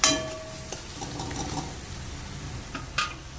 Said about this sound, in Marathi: मिक्स करून घ्यायचे त्याला मस्त तेलामध्ये मिक्स करून घ्यायचं